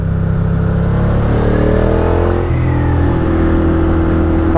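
A Moto Guzzi 1200 Griso SE motorcycle on the road, its engine droning steadily and loudly up close with a brief shift in pitch midway as the rider changes speed, joined by constant wind rush.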